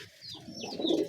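Large-breed pigeons such as Shirazi and Lakha in a tin-sided loft give soft, rounded cooing that starts faint and swells louder near the end, with a few thin higher chirps overhead.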